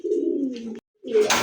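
A single light-coloured pigeon, an Iranian or Pakistani fancy breed, gives two close, soft low coos separated by a short pause.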